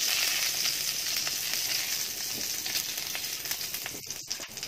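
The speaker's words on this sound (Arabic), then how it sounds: "عشان في نفس الزيت ده هنشوح البصل مع السكر" Onions frying with sugar in hot oil, a steady close sizzle with bright crackle throughout, a few stirring scrapes and clicks near the end.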